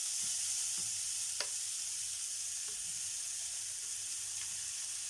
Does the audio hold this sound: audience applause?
no